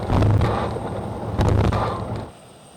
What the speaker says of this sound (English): the Ilyushin took off for the Russian Novolazarovskaya station on the coast